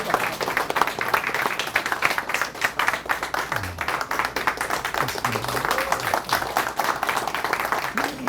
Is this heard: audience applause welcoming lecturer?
yes